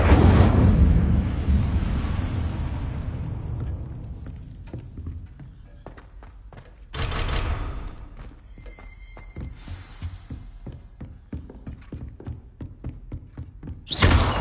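Incendio fire spell from Hogwarts Legacy on PS5: a heavy whooshing burst at the start, a second roaring flare midway, and another at the end, with softer thumps and taps in between.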